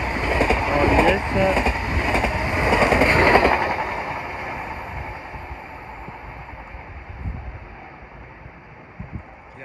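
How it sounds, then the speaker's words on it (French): A Thalys TGV high-speed train runs through St-Denis station without stopping, a loud rushing roar up close that slowly fades into a rumbling rail clatter, with a voice speaking over it. "Passage sans arrêt par Thalys."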